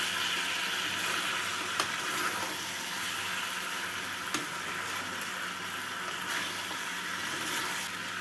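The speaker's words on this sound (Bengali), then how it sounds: "বেগুন, বড়ি আর কাঁচা লঙ্কা দিয়ে নাড়াচাড়া করে নিচ্ছি।" Fried bori, eggplant and green chilies stirred in a sizzling pan, a steady close hiss of hot oil with occasional soft scrapes and clinks of the spoon, with no talking.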